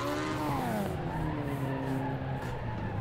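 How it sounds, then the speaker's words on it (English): In the Assetto Corsa racing game, a classic MK1 Ford Escort hot rod hits the fence and spins out. Its engine pitch sweeps down while the tires skid and scrub loudly for a few seconds. "Oh, he slapped the fence and spun it."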